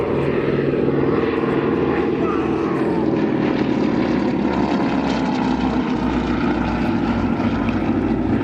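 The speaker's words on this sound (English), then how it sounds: "The Harvard aircraft, 600 horsepower Pratt R1340, so it's a bigger engine, obviously more horsepower." A Harvard trainer with its 600-horsepower Pratt & Whitney R1340 radial engine flies at an air show, giving a loud, steady propeller drone that holds constant and close throughout.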